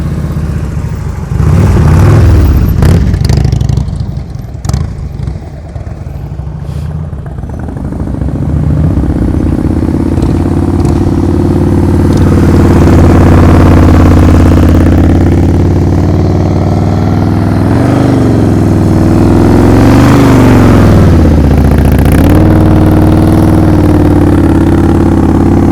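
A motorcycle engine idles low, then revs and surges as the rider pops the clutch during slow-speed riding practice, with a rising, wavering drone that swells and dips over the second half, loud and close.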